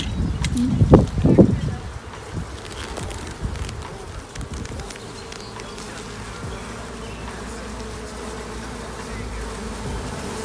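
A honeybee swarm buzzing steadily and close, a dense continuous drone that carries on throughout, with a few louder bursts and rustling near the start.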